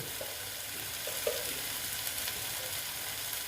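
Capsicum and egg frying in a pan as ground spices go in, a soft steady sizzle with a few faint stirring scrapes, quiet and continuous with no talking.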